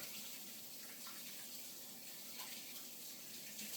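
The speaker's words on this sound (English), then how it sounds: "I tend to rinse my hands bunches of times while working on stuff and cooking." Water runs steadily from a kitchen tap while hands are rinsed during cooking, a continuous broadband splashing hiss that stays even throughout with no talking.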